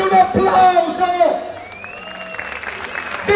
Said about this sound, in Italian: Fatemi sentire un applauso!